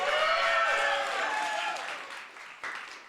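Loud, full applause from a crowd honoring a player at a college esports tournament award ceremony, with whooping cheers on top, tapering off near the end.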